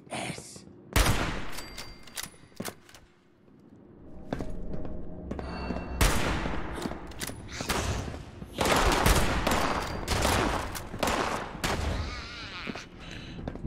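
Pump-action shotgun blasts in the game Fallout 76, a string of loud, sharp shots spread through the clip, some in quick pairs, mixed with dense game combat noise and no talking.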